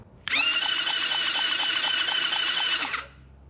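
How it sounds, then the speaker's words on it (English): A tracked minibike's engine is cranked over by its electric starter, a high whining squeal with faint regular pulses lasting about three seconds before cutting off, close and loud. "We get a cranking over, and there's lots of spark."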